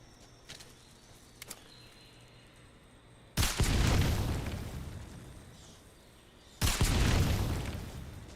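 Two loud, close booms from explosions in the video game Metal Gear Solid Delta, each striking sharply and then rumbling away over a few seconds, with quiet ambience and faint clicks before them.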